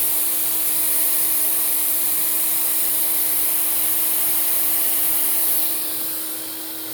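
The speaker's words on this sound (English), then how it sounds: "do the nozzle suction." An Electrolux Epic 8000 vacuum cleaner nozzle draws suction with a steady, loud airy roar and a constant motor hum, running alone before easing down slightly at the end.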